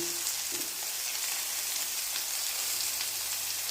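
Homemade meatballs fry in a pan, giving a steady, fairly quiet sizzle with soft crackle throughout and no talking.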